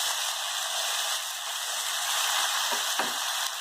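Ground tomatoes sauté in a pan for a chicken curry, giving a steady broadband sizzle that stays close and even throughout, with faint stirring scrapes near the end and no talk.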